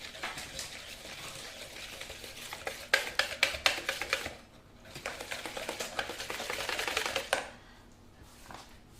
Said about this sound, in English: I'm going to whisk these up until they're lovely, light and creamy